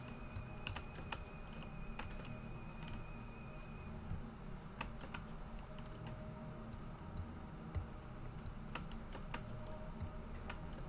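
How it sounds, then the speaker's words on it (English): Keyboard keys and mouse buttons clicking on a computer during PC play of Metroid Prime 2, run through the Prime Hack mod; quiet, close, irregular taps and clusters of clicks with no voices. "I am playing with a mouse and keyboard"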